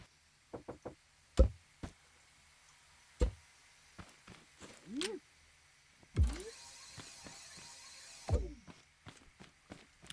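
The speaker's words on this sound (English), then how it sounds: "So now we have our fancy blast doors here." Star Wars-style blast doors built in Scrap Mechanic, a series of sharp knocks and clunks followed by a whirring mechanical slide and heavy thuds as the doors move, intermittent and fairly close.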